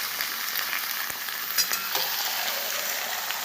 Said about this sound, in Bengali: এবার গিলে মেটেটা পেঁয়াজ ভাজার মধ্যে দিয়ে দিচ্ছি।